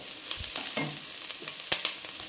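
Ginger garlic paste sizzles softly in hot oil as a spoon stirs it with light scrapes and taps against the pan, quiet and close, with no voices.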